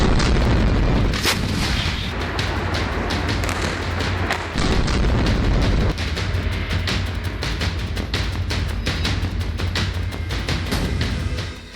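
Heavy bombardment in the Israel-Hamas war: a dense, continuous barrage of deep booms and sharp cracks of gunfire and explosions, loud and unbroken throughout with no voices.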